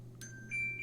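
A telephone gives off a steady electronic tone of a couple of sustained pitches, rising to a louder beep in the second half, faint against room hum with no talking.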